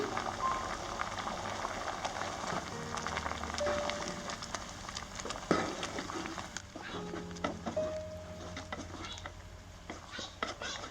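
Prawn curry simmering in a pan while red chilli and coriander powders are stirred in, with steady bubbling, spoon scrapes and clinks against the metal pan throughout, close and moderately loud.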